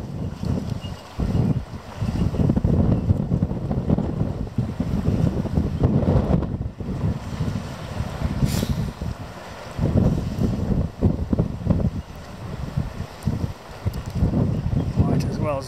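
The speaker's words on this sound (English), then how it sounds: "Here's the ferry, let's watch that one." A ferry moving across open water, heard as a continuous low rumble mixed with heavy wind buffeting the microphone; a voice speaks intermittently over the noise.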